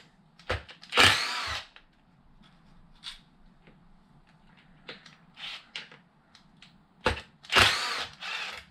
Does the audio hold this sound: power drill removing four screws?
yes